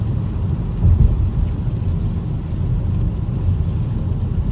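Slow-moving traffic on Highway 401 near Mississauga, Canada, a steady broad rumble of car engines and tire noise continuing throughout, fairly loud and close, with no talk.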